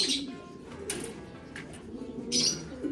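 Pigeons in a loft cooing softly at low pitch, with a few brief sharp flutters or rustles breaking through a quiet background.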